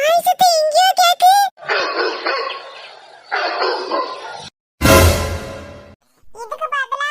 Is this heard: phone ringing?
no